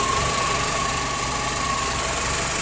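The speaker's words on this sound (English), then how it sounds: "You can tell that the idle's a little bit lumpy" A Vauxhall Astra engine with a lightened flywheel idles steadily and close by, its slightly uneven, lumpy rumble carrying a constant mechanical whine throughout, with no voices.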